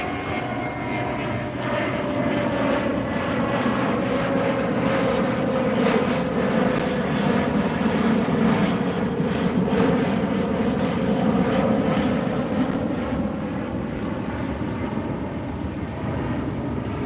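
A jet airliner passes at LAX near the beach, its loud roar filling the whole stretch with a slowly shifting pitch as it goes by, no talk over it.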